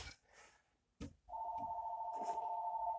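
A home telephone rings in a kitchen with a steady electronic tone that starts after a few soft knocks and handling noises and then continues at moderate loudness.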